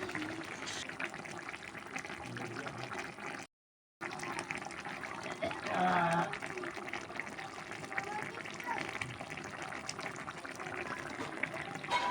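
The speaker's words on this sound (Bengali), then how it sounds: "আমি যে গরম জল করে রেখেছিলাম সেই গরম জলটা দিয়ে দেবো দিয়ে চিকেন কারিটা পুরোপুরি করে নেবো" Hot water pours into a pot of chicken curry with potatoes, a steady liquid wash that runs under other noise and breaks off briefly partway through.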